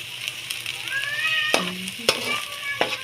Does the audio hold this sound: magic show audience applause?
no